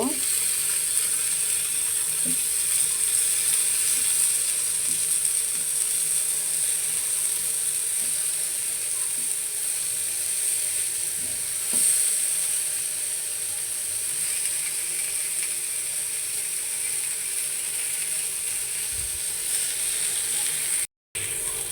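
Eggplant pieces fry in a pan with dried chilies, giving a steady, close, even sizzle that runs the whole time with a few faint clicks and no talk.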